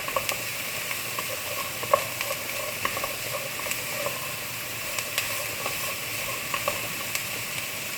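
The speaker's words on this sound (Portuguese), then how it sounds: "Quando a gente refoga, é bem rápido." Carrots sauté in a small amount of olive oil, giving a steady, soft sizzle and hiss with light crackles and occasional stirring clicks; it is close and continuous, and nobody speaks.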